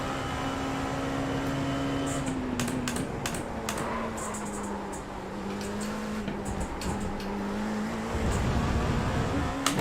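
LMP2 prototype race car in iRacing at Road Atlanta, a steady engine drone holding a sustained pitch that dips slightly and shifts near the end, with faint clicky keyboard-like taps scattered over it.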